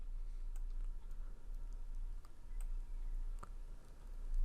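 Sparse mouse clicks while working in video editing software, setting keyframes; a handful of light, close clicks spaced irregularly over a steady low hum.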